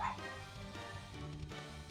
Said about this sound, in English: She's barking at the 18-year-old cat like she's gonna get a hold of him.